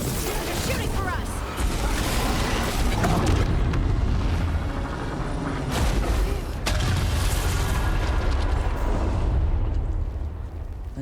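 Enemy gunfire and heavy booming blasts in the fantasy action game Dragon Age: The Veilguard, dense and continuous across the scene, with a voice speaking over the combat.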